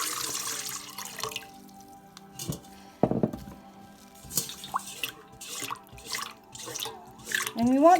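Warm water is poured into a mixing bowl for bread dough, with intermittent splashes, drips and clinks of dishes amid quiet kitchen sounds, a voice speaking briefly.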